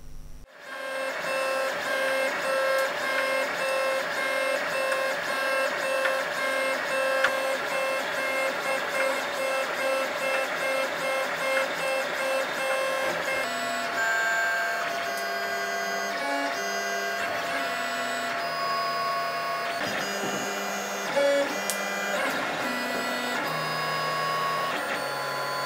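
A 3D printer printing knee repulsor mount parts for an Iron Man Hulkbuster cosplay hums and whines steadily, its stepper motors shifting pitch in changing tones throughout, close and alone.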